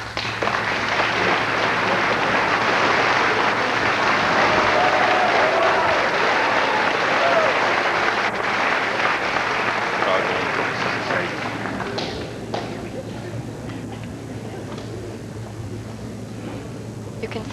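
Audience applause at a 1984 high school commencement ceremony: dense, steady clapping from a large crowd fills the hall for about twelve seconds, then thins and fades to a quieter murmur.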